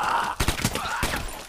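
Gunfire in a film as soldiers shoot a zombie, a few loud sharp shots in quick bursts over a tense, droning backdrop.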